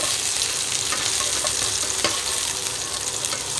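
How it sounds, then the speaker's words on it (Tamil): Onion and curry leaves sauté in hot oil with a steady, close sizzle and faint stirring scrapes, no voices. "கொஞ்சமாக பெரிய வெங்காயம் தான் போடுறேன் நான். இது லேசாக வதக்கிக்கலாம்."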